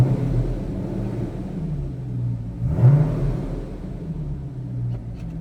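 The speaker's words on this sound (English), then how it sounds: "good sounding catback exhaust" A 2010 Chevrolet Corvette coupe with a catback exhaust idles with a steady low rumble, a brief rev swelling the note midway before settling back to a deep, even burble, heard alone without talk.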